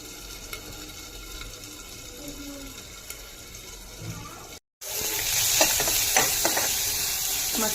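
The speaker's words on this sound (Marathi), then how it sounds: "मसाला सर्व असा भाजून घ्यायचा आहे।" Masala of onion and tomato roasting in oil in a pan for rajma, a soft sizzle that turns louder and brighter after a brief gap, with scraping stirs near and constant.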